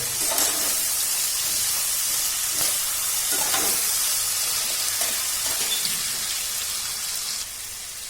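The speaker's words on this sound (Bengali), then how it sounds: "পুরো জিনিসটাকে আমি একটু ভালো করে ফ্রাই করে নেব।" Cashews and raisins fry in hot oil for a biryani, giving a steady, close sizzle that crackles continuously and eases off slightly near the end.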